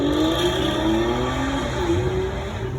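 An Aston Martin DB9 with a 540-horsepower front-mounted V12 revs loudly as it drives past, its engine note rising, dipping and climbing again over a few seconds, with no talking.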